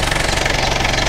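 Chevrolet Luv engine running steadily at raised RPM during a radiator flush, a dense continuous mechanical drone with a fast knocking pulse, loud and close, with no talking.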